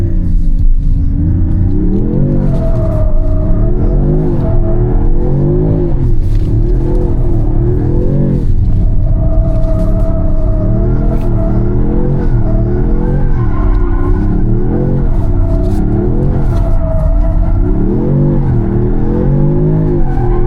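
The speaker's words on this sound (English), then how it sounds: "This car is really easy to freaking drift." A 2026 Dodge Charger Sixpack Scat Pack revs up and down in repeated cycles as tires squeal and skid through sustained drifting slides, loud and close throughout.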